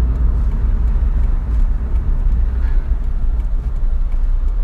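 A 2004 Mitsubishi Outlander salvage car's engine runs with a steady, loud low rumble close by, unbroken and with no talking.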